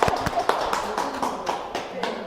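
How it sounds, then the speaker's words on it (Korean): A small Bible study group claps in welcome, a short burst of several close, uneven hand claps that thins out over a couple of seconds. "박수"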